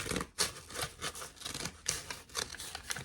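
Scissors snipping steadily through brown paper grocery bag pages of a handmade pocket journal, a close run of crisp cuts and rustling strokes with no talking.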